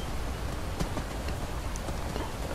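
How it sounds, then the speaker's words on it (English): Rain in the video game Skyrim, heard while riding a horse along a road: a dense steady patter with scattered sharper drops and faint hoof-like knocks underneath. "that is an impressive sound, and it is raining"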